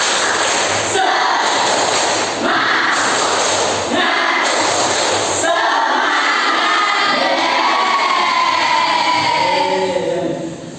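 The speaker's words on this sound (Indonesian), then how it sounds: "Tepuk semangat." A school class does a rhythmic spirit clap together, loud claps in a patterned sequence. After that comes a burst of excited children's shouting and crowd noise filling the room.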